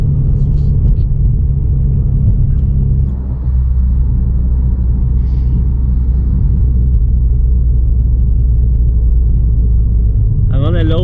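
Low engine rumble fills the cabin of a 2016 Subaru WRX on the move, steady and droning, with a brief dip partway through and no clear exhaust pops standing out.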